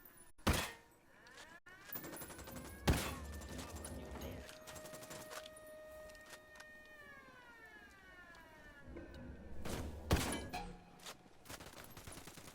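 Gunfire in the video game Ghost Recon Wildlands: several loud, sharp shots spaced apart across the clip, with game effects and tonal sweeps between them and no talking.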